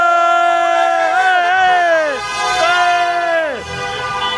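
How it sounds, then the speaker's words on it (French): Car horns honk loudly in the street after a Belgium World Cup football match, several long sustained blasts overlapping with drooping pitch, with a crowd murmuring underneath. "Ah, ça klaxonne là."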